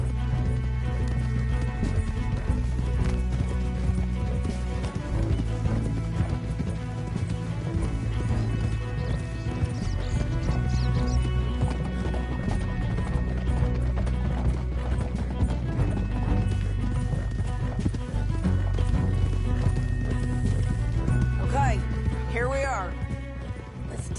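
Horses' hooves clip-clop in the Red Dead video game, a rhythmic trotting beat heard under a continuous music score. Characters talk over it throughout.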